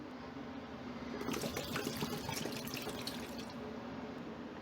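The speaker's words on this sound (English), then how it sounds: "And then the young coconut water." Young coconut water poured into a blender jar over durian meat, a steady liquid splashing and trickling that swells after the first second and runs on continuously, close and moderately loud.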